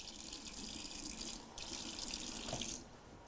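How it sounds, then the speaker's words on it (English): Hot water runs from a tap in a steady hiss, briefly interrupted and restarted, then tapering off near the end, quiet and close with no voices. "I'm gonna use a little bit of hot water"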